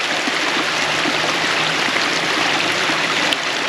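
Heavy rainwater rushes steadily through a rocky drainage ditch after a downpour, a close, continuous broadband wash of flowing water with no voices.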